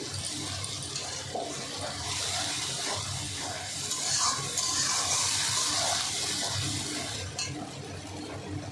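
Spice-bowl rinse water poured into a hot pan of cooked-down spice paste, a continuous splashing, bubbling hiss over about eight seconds, close and moderately loud, no talk.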